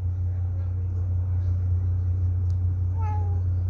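A cat gives a single short meow near the end, fairly faint over a constant low engine-like hum, with people talking nearby.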